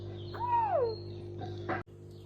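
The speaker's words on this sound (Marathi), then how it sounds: "ही बघा कोकिळा जी आमच्या घराच्या इथे येऊन रोज ओरडत बसते." An Asian koel calls from a chikoo tree near a house: a single clear, sliding whistled note rings out over a steady low hum, followed by a short burst of rustling.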